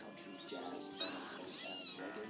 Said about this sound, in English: Look at Miss Cat hunting the birds.